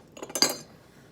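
Small metal measuring spoons clinking together while baking sugar cookies, a brief cluster of bright, close jingles lasting under a second, then quiet.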